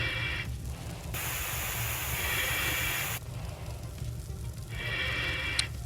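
Water from a firefighting hose hisses in steady bursts against flames inside a convenience store during firefighting game play, the spray cutting in and out with broadband sizzle and crackle between.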